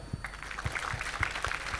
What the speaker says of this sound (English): All of you clap for sir.